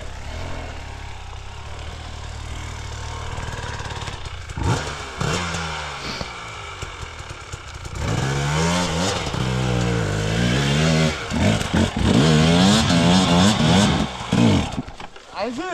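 A motor engine strains and revs uphill, rising and falling in pitch as it climbs, growing louder toward the end, with people talking over it.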